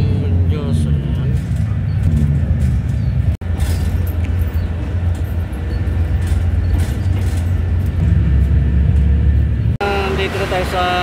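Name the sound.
riding inside a moving bus in traffic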